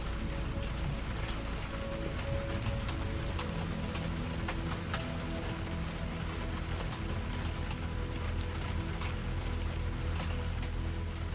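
Steady, dense rain falls on a mountain cabin among pine trees, heard through cracked-open windows: a continuous, even hiss and patter with no talking.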